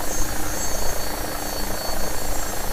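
AgustaWestland AW109SP helicopter in flight, slowing for a holding pattern, gives a steady, loud, continuous rotor and turbine drone with no breaks or change in level.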